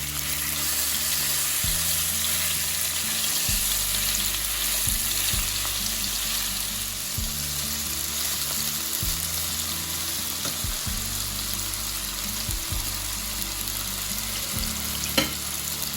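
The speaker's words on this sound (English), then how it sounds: "same pan and add our beef to the mix" Thinly shaved beef sizzles steadily in a hot pan for a stir-fry, a continuous close frying hiss with occasional stirring scrapes and no talking.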